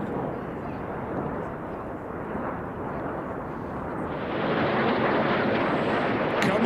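Red Arrows jet flying in fast over the Goodwood Festival of Speed, a broad roaring rush that swells louder in the last seconds as it nears, with crowd and ambient noise beneath.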